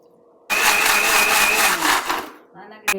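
Mixer grinder blending coriander leaves, green chillies, garlic and ginger, starting abruptly with a loud whirring roar for about two seconds, winding down and ending in a short final burst.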